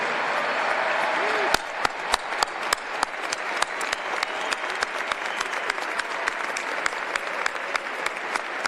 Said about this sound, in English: Students, stand up. We want to applaud you.